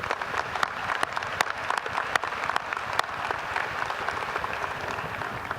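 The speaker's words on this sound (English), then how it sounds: "How about a round of applause for them" Steady applause from a seated audience at a university winter commencement, honouring staff, a dense even patter of many hands clapping at moderate distance with sharp individual claps standing out.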